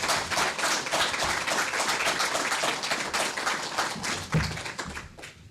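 A debate audience claps to thank the Democratic primary candidates, steady brisk applause from a room of people, close and fairly loud, with a few sharper knocks mixed in.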